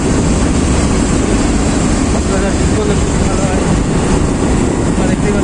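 A train passes on a railway line right beside the road, a continuous broad rumble and rush that stays loud throughout, with a voice faintly underneath.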